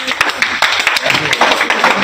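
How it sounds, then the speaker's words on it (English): Audience at a National Entrepreneurship Day event claps for a speaker, with sharp, close, uneven bursts of hands in a loud room and some voices mixed in. "clap for him"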